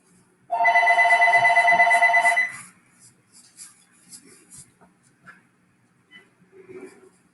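A mobile phone rings with a loud, pulsing electronic tone for about two seconds before stopping, followed by faint scratching and small handling noises nearby.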